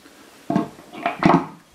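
A Daiwa fishing reel case is set aside during an unboxing, making a few short, close fabric-and-plastic handling knocks and rustles in quick succession.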